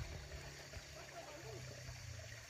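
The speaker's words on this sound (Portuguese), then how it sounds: "Uma água boa que desce aqui, aí, ó." Rainwater runs down from a small pond on a rural smallholding in Minas Gerais, Brazil, making a steady, faint trickle and gurgle with some low wind-like rumble throughout.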